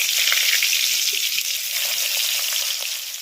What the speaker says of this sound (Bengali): তেল গরম হয়ে গেছে, এবারে পটলগুলো তেলের মধ্যে দিয়ে দিচ্ছি।